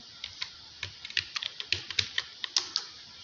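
Steady typing on a computer keyboard while entering data into an Excel spreadsheet, a quick run of light, evenly spaced key clicks close by with no talking.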